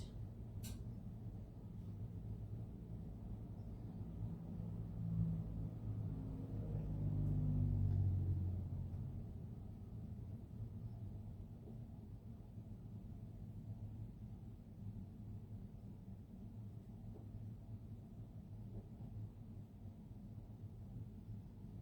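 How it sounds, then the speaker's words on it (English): Steady low rumble of highway traffic passing a roadside home, a continuous distant wash of vehicles with one heavier pass swelling briefly partway through before settling back to the constant drone. "that's the traffic going by. I live on the highway."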